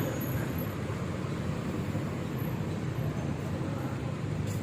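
Steady, dense street traffic at the Asok intersection in Bangkok, a continuous low roar of engines and tyres at close range with no clear breaks.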